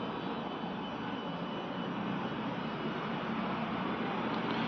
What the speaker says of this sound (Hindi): एक विमान आया